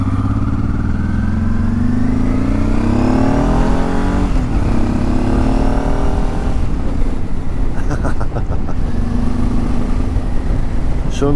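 A Honda Transalp XL 600 V (PD06) motorcycle engine runs with a throaty, rattling drone that climbs and falls in pitch as it revs. The engine is heard up close and continuously, mixed with steady wind noise on an open road.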